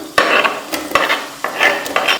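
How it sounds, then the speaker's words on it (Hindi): Chopped onion dropped into hot oil for chana pulao, giving a loud sizzling fry with bursts of crackle as pieces hit the pan and are stirred, close up with no talking. "ऑयल हमारा गर्म हो गया, हम इसमें प्याज डाल रहे हैं"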